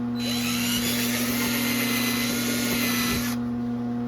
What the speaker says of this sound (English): make sure I'm not drilling through anything important